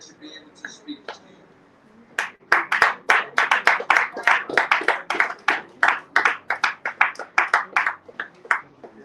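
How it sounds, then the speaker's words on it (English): Audience applause for a speaker at a local government launch event, starting faintly after a moment of quiet and swelling into steady, close clapping that continues to the end. "A round of applause for him, please."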